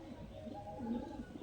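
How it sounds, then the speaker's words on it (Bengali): Low, murmuring coos from caught Giribaz pigeons with pinned wings come in soft, close, continuous rolls over a quiet background. "এগুলো সব ধরা পায়রা রয়েছে"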